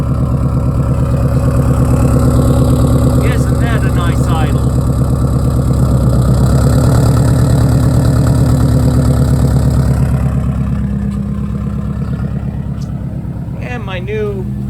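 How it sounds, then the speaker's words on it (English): A 2005 Subaru engine fitted with a new turbo, downpipe and free-flowing exhaust idles with a loud, steady, lumpy rumble close by, while a voice talks briefly over it. "Let's hear the new turbo and exhaust and everything."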